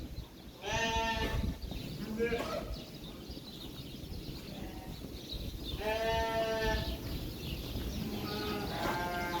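Several sheep bleat close by on a sheep farm in Israel, wavering cries rising now and then over a busy, noisy farmyard background.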